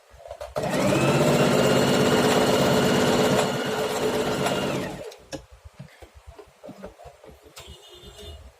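A Singer 4423 portable sewing machine stitches in one loud, steady whirring run of several seconds, then stops, leaving scattered clicks and handling sounds.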